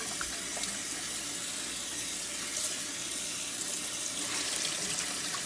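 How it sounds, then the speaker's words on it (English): Warm water runs steadily from a tap into a sink while tie-dyed fabric is rinsed, a continuous close hiss and splash with no talking. "So now a little warm water."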